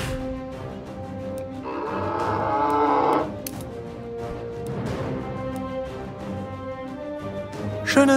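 Cows moo in the South Park: The Stick of Truth video game, several drawn-out lowing calls overlapping with game effects and a few sharp hits, moderately loud.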